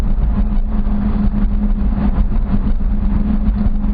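Manual car engine running at a steady low hum while shifting into fourth gear, an even drone with a constant low tone and no voices.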